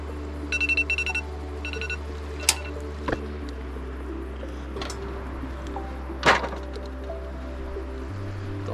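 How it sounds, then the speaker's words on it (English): A kitchen timer alarm, set for cooking a lobster, goes off in two short bursts of rapid electronic beeping near the start, then gives way to a quiet room with faint clicks and hum. "So that's the alarm for the lobster. It should be ready."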